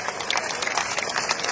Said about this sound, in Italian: Vabbè, Graziana si becca l'applauso in contumacia